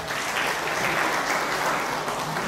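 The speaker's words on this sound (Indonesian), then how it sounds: "Tepuk tangan dulu bapak-bapak semua." Sustained audience applause at a National Transportation Day ceremony, a steady dense wash of many hands clapping throughout with no talk over it.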